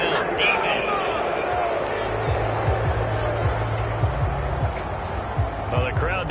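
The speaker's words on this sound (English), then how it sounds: "Well, the crowd doesn't like that." A stadium crowd in an American football video game sends up a steady, dense roar of displeasure after a penalty flag, loud and continuous, with commentary voices speaking over it.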